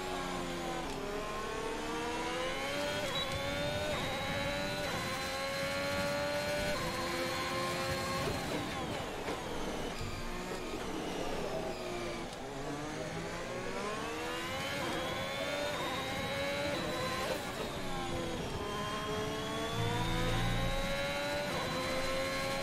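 Formula 1 race car engine from the F1 2021 video game during a qualifying lap, loud and continuous, with rising and falling pitch as it revs up through gears, drops off around a braking point, then climbs again.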